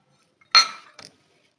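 A spoon stirring dabda filling with lemon juice and chopped coriander in a dish gives one sharp metallic clink followed by a quick, lighter double clink, close and isolated in silence.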